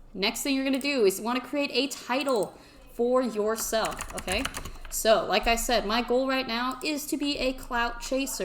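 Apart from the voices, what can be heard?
typing on a mechanical keyboard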